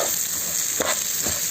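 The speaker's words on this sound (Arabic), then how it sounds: "انا هسيبه كده في الزيت، هفضل اقلب فيه شوية" Basmati-like rice frying in oil while being stirred, a loud steady sizzle with a couple of scraping stirring strokes, close up and uninterrupted by talking.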